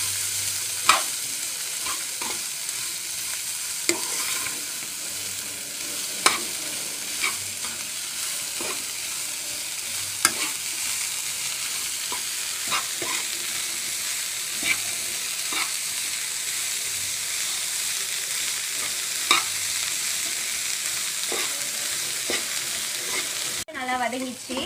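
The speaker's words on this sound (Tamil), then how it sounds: "இந்த மாதிரி பொடிசா கட் பண்ணி வச்சிருக்க வெங்காயத்தை இது கூட சேர்த்துக்கலாம். சேர்த்து வதக்கிக்கலாம்." Finely chopped onions sautéing in a pan for a vegetarian fish-style curry, a steady hissing sizzle with regular spatula knocks and scrapes every few seconds, close and even throughout.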